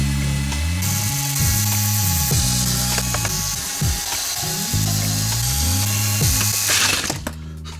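A Nerf Rival Kronos blaster being taken apart gives off loud, continuous ratcheting clicks and grinding mechanical rattles for several seconds, close and with no talking.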